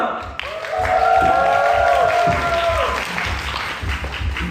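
A crowd bursts into loud applause and cheering, with rising whoops over steady clapping that fades slightly toward the end.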